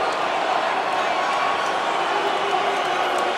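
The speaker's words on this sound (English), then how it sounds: "listen to these Blackhawk fans" Blackhawks fans at the 2023 NHL Draft roar as a dense, steady crowd, a loud continuous wall of cheering and shouting that holds without a break.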